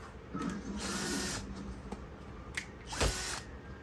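Screws being driven back into the guard of a Lasko B20200 Galaxy fan, short bursts of whirring tool noise with small ratcheting clicks, close and fairly quiet.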